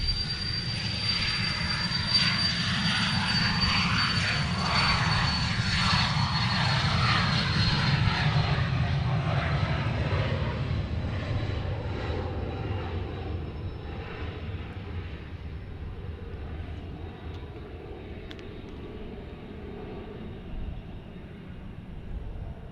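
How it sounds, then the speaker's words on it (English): A helicopter drones loudly overhead at Austin's Bergstrom International Airport, then gradually fades as it moves away into the distance. "Sounds like one of the helicopters is leaving again from DPS."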